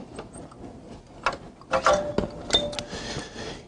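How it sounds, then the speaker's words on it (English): Small screws being backed out of a plastic cover on a Danfoss VLT FCD 302 decentral drive, giving scattered faint clicks, ratchety ticks and light plastic clinks with a brief thin squeak, close by and quiet. "After removing 4 screws here on this plastic cover"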